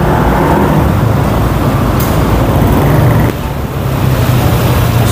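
Dense, steady roar of congested road traffic on a busy street with vendors, engines and tyre noise blending into a loud continuous wash that dips briefly near the end.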